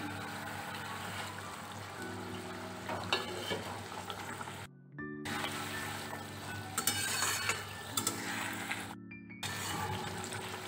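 Fish frying in hot oil in a pan, a steady soft sizzle with faint stirring clinks, broken by two brief gaps, no talking.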